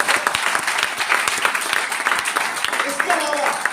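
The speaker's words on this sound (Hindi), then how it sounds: "इसके लिए दिल से एक बार तालियां हो" Dense applause from an audience fills the room, a steady patter of many hands clapping at close range.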